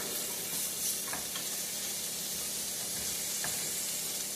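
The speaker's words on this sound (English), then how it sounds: "we're going to take a deep welled frying pan and put our bacon in there" Bacon sizzles in a deep frying pan with a steady, even hiss of frying fat and a few faint crackles and pops, with no talking.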